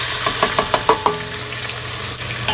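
Onion dropped into hot oil in a pan at a countryside restaurant kitchen, a series of sharp spattering crackles followed by a steady close sizzle.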